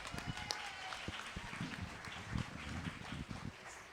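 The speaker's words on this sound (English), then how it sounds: "Let's give these two young people a big round of applause." Scattered applause from a modest audience at a youth market steer and beef livestock show at a county fair, uneven clapping with individual claps standing out, fairly quiet overall.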